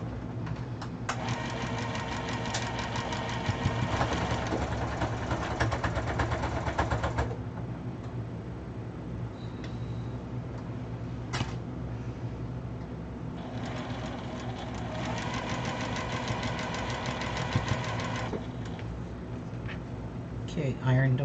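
A sewing machine stitching a long fabric wall organizer runs in two extended bursts of rapid mechanical whirring, close and steady, with a quieter pause between them and a person talking throughout.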